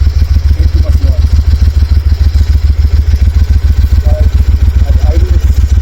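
A Triumph Thunderbird Storm cruiser motorcycle idles steadily nearby, a low, even rumble of firing pulses that stays quiet and unchanging throughout, with no revving.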